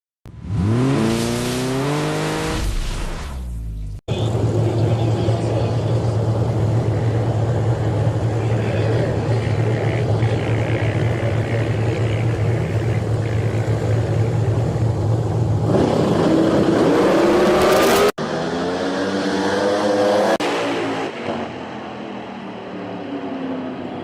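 A ProMod drag race car blasts down the strip at Toronto Motorsports Park, a deafening sustained engine roar with a rising whine, framed by excited commentary before and after the run.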